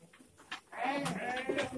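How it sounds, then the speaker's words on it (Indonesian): Gembel goats kept on a smallholder farm in Magelang, Central Java, bleat close by: a few short cries, then one long quavering bleat that holds for about a second. "ini kambing yang dipelihara ini ada kambing gembel"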